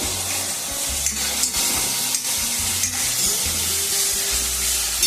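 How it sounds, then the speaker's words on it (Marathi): Tomatoes sautéing in a hot pan for varan batti, a steady loud sizzle with stirring scrapes running throughout, close and continuous with no talk. "टमाटर छान परतून घेऊ"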